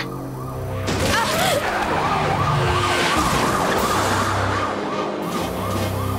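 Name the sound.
ambulance siren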